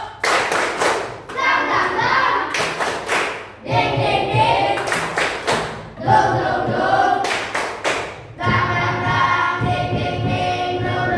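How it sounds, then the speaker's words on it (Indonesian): Children in a classroom perform a rhythmic spirit clapping chant, tepuk semangat, in repeated bursts of quick patterned claps and thumps separated by brief pauses, with young voices chanting along. "Yang semangat 1, 2, 3, tepuk semangat baru"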